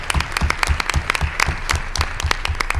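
A school board meeting audience breaks into loud, sustained applause, many hands clapping close and dense with no talk over it.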